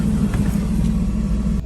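A little red Pontiac G6 sports car idles steadily while warming up, its low engine rumble loud and continuous before cutting off near the end.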